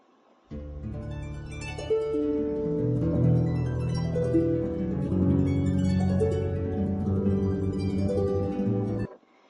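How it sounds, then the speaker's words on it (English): A harp plays a flowing run of plucked notes that ring and overlap, clear and close, continuing for several seconds with no voices. "And this instrument is called the harp."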